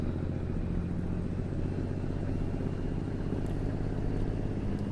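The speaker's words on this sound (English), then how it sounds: "Love the way this Kenworth sounds." A Kenworth truck engine in American Truck Simulator with modded engine sounds gives a steady, loud, deep throbbing rumble and drone that holds unchanged throughout, with no voices.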